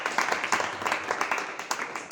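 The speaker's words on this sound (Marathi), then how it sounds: "याच्यासाठी टाळ्या वाजवा" A classroom group claps for a pupil, the applause coming in fairly quick, uneven bursts at moderate loudness, somewhat distant and thin.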